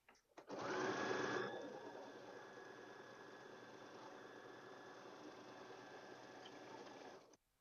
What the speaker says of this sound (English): put the presser foot down, continue sewing till you get to the bottom